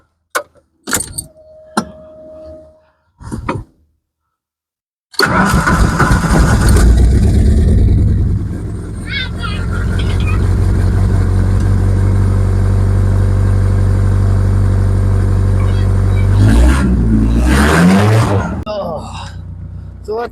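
A 2.3 turbo Foxbody drift car, cold, starts after a few clicks and jangling keys, then catches and holds a loud, rough idle up close with a brief rev near the end.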